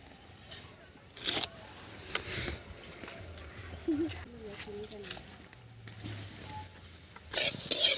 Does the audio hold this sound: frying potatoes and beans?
yes